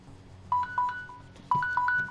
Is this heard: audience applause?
no